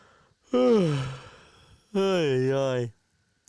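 A person lets out a drawn-out yawn in two voiced, wavering breaths, the second longer and rising and falling in pitch, close and fairly loud with near silence between.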